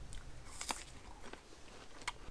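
A crisp bite into a crunchy red-fleshed seedling apple during an apple variety taste test, a few faint, sharp crunching snaps close by in a quiet setting.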